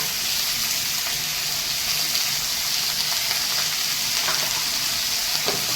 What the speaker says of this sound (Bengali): তেল গরম হয়ে গেছে ডিমুরটা ছেড়ে দিয়ে দেবো